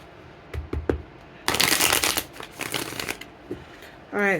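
A Romance Angels oracle card deck being shuffled by hand, with a few soft taps followed by two bursts of riffling card noise, close and fairly loud. A short spoken tone comes at the end.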